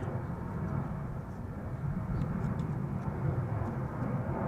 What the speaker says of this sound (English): It's a 737, which is also what is now departing.